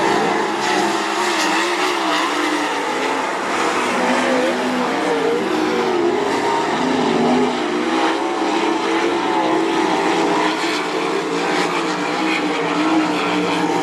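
Sprint cars racing into turn 3 on a dirt track during a dash at the Brad Doty Classic, their engines a continuous loud roar that rises and falls as they lap, with no voices over it.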